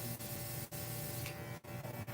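A Wahl Vapor spray device hisses in a steady, continuous stream, with a few brief gaps where the spray cuts off, close and fairly loud throughout.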